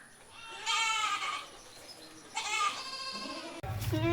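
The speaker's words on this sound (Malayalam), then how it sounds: "വളർത്താൻ പറ്റിയ 2 മലബാറി ആട്ടിൻകുട്ടികൾ, ഒരാണും ഒരു പെണ്ണും" Malabari goat kids, one male and one female, let out two loud, wavering bleats close by, with quieter stretches between them and a thump near the end.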